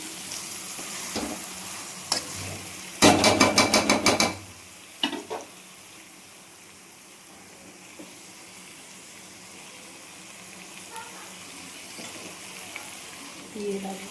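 Pre-fried potatoes drop into a pan of sizzling yogurt chicken curry, setting off a loud burst of crackling spatter, then a few scrapes and a low steady simmering hiss.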